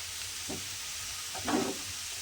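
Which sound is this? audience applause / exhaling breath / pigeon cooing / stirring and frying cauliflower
stirring and frying cauliflower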